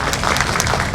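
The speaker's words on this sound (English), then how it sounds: "Can we give the children a little clap?" A school audience claps for the children at an information session, a brief, dense burst of clapping.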